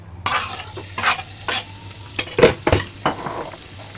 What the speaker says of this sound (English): Now we are gonna add our garlic.